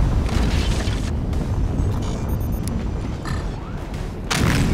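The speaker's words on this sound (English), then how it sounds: "It's that fucking back cannon on the boat that we didn't destroy." Cannon fire from a boat in the siege game Forts, a dense booming barrage of explosions that rumbles continuously, loud and close, with a heavier burst near the end.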